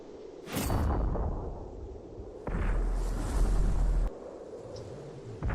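Artillery fire in World of Tanks on Xbox 360 from an M12 self-propelled gun: a heavy boom with a whooshing tail, then a second, longer low rumbling blast, loud against quiet background.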